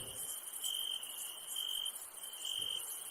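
Crickets chirp steadily at night beside a dark railway platform, a high, continuous trilling that pulses in short waves over an otherwise quiet background.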